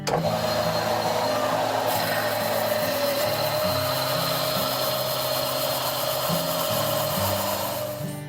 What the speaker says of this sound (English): The jig rides along a rub collar just below the sanding belt.